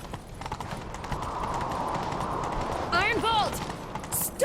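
Horses galloping in The Witcher 3, a steady rush of hoofbeats that runs throughout with a constant clip-clop rhythm, fairly close, joined near the end by a faint voice.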